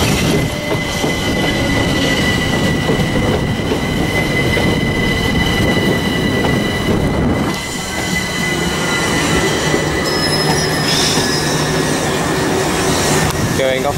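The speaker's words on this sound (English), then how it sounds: "The Seaford train." A Class 377 electric train runs along the Seaford branch line, rolling past loud and close with a steady rumble of wheels on rails, some squeal and clatter, continuing without pause for the whole stretch.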